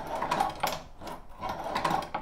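A Chinese leather shoe patcher machine stitches through two layers of 7/8 ounce leather along a stitch groove, giving a close, steady rhythm of mechanical clacks, roughly three stitch cycles repeating evenly with no voices.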